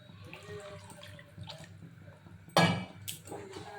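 Water poured into mustard paste frying in a pan for a Bengali rui and bhola fish curry, giving a sudden loud splash and sizzle after quieter kitchen clatter, then a brief hiss.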